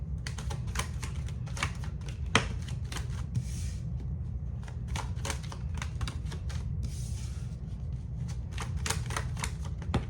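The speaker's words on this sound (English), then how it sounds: "Let me pull some cards here and just see how we're feeling." Tarot cards being shuffled and pulled, a steady run of dry, crisp riffling and snapping taps with soft rustles between, close and even in level, no talk.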